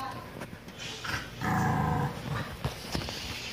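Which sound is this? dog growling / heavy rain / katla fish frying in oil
dog growling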